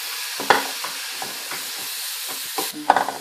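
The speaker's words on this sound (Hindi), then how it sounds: "अब मैं इसको दूध से डाल के अच्छी तरह मिक्स करके इसको मैं उतार लेती हूँ।" A spoon stirs semolina halwa with milk in a hot pan, giving scattered soft scrapes and wet sizzling hisses at an irregular pace, close and fairly loud, with no talking.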